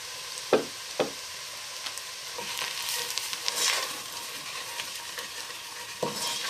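Onions and flour stirred in a frying pan, a steady sizzle running throughout with a few sharp utensil knocks against the pan near the start and end, close by with no voices.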